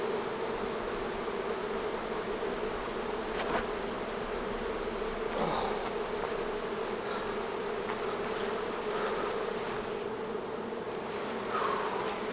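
A swarm of honey bees hums continuously around a hive during honey pulling, a dense, steady buzz with individual bees droning past now and then.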